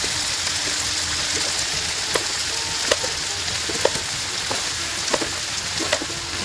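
Rice hits a hot pan over a high flame for mutton fried rice, producing a loud, even sizzle close up, punctuated by sharp utensil taps every second or so.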